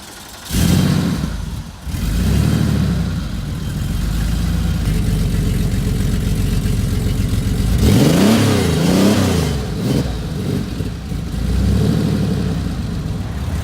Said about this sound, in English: So that's my car.